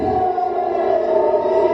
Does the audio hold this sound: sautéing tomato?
no